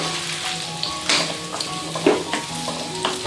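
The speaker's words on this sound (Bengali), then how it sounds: "আর এখন টমেটোটা আমরা ততক্ষণ ভেজে নেব যতক্ষণ টমেটোটা নরম না হয়ে যায়।" Two medium chopped tomatoes and fifteen cashews fry in a pan for paneer butter masala, giving a steady close sizzle broken by scraping stirs, with no voices.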